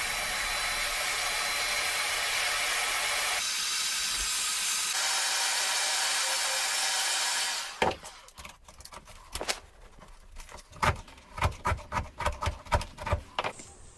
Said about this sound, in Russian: Для этой задачи нам понадобится простой фен.